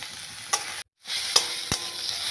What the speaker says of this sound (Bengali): এবারে টমেটো দিয়ে ভাজা হচ্ছে।